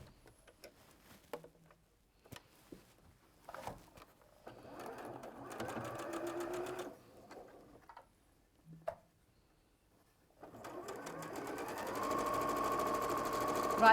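A domestic sewing machine fitted with a quarter-inch foot stitches half square triangle quilt pieces, quiet and close, in several short runs of fast mechanical whirring separated by pauses and small clicks, the longest run at the end.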